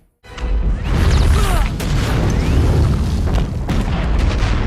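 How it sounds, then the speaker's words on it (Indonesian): Fuel tank explosion in a Godzilla monster film, a loud booming blast that bursts in suddenly after a brief silence, then rolls on as a heavy rumbling, crackling roar with debris clatter for several seconds. "Lalu dia pun membuka tangki bensin itu dan meledakkannya."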